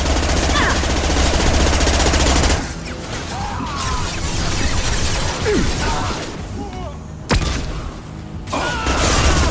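Heavy sci-fi gunfire from Mass Effect 2 combat, a dense sustained burst for the first few seconds, then scattered sharp impacts and booms with a loud crack near the end, over a game soundtrack with voices speaking.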